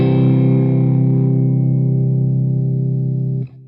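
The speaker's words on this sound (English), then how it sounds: "Then when you soften up, you get a compressed tone" A single held electric guitar chord through a compressor pedal sustains evenly and loudly with a distorted, chorus-tinged tone, staying level before being cut off near the end.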